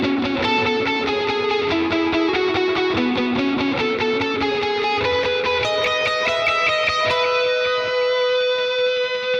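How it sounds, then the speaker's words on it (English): Electric guitar played through a Line 6 POD Go on a modulated reverb factory preset, ringing chords and sustained notes with a shimmering, wavering wash, loud and alone without any talking. "That's quite a nice modulated reverb."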